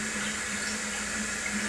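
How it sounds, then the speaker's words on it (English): Water from an overflowing toilet tank rushes steadily with a constant hiss and a low hum underneath, close and loud, with no talk. "What's happening here? It's overflowing."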